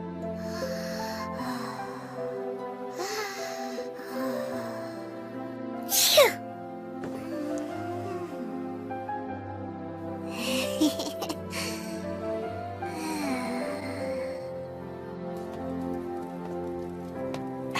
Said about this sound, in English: Sudden cold spells tend to trigger sneezing fits in her.